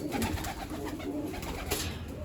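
Pigeons cooing close by in a loft, soft repeated throaty coos overlapping in a steady rhythm with slight rustling.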